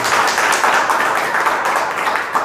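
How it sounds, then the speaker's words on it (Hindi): An audience at a home business meeting for IMC Ayurveda products bursts into dense, steady applause, a loud continuous clatter of many hands that fills the whole short stretch. "बहुत जोरदार तालियां होनी चाहिए"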